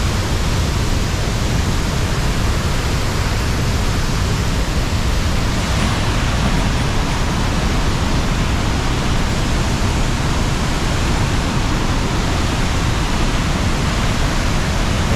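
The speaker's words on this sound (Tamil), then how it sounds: "இந்த தண்ணி இப்போ கீழே அந்த மலையிலேருந்து கீழே பாயுது" Snowmelt and rainwater pour swiftly down a mountainside in a loud, continuous roar, broadband and unchanging for the whole stretch, with no one talking.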